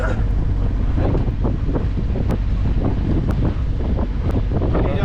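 Strong wind blows across the microphone on a boat at sea, a loud constant roar with gusting buffets and faint splashing underneath.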